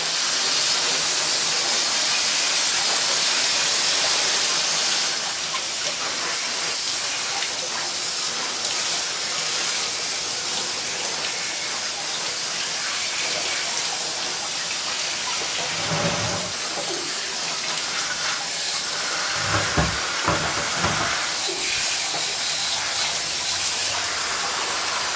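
Water spray rinsing a Singer Model 328K sewing machine motor, a steady loud hissing rush that runs continuously, with a few brief splashy thumps and gurgles toward the end.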